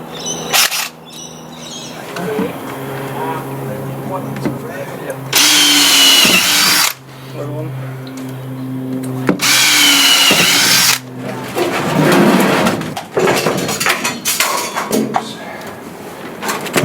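A power drill bores holes for mounting a battery shelf, two loud sustained whirring bursts of about two seconds each, with talking, birdsong and clattering between them.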